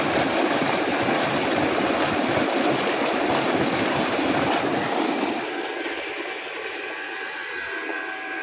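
Water gushing from a 10 HP Punjab Golden motor tubewell pump running on solar power, a loud steady rushing flow that eases somewhat after the midpoint and continues as a softer stream.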